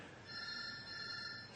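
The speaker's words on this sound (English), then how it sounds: "Some bastard is ringing me up" A telephone rings with a steady, bright electronic tone that holds unbroken for the whole second and a half, moderately quiet, with no one talking.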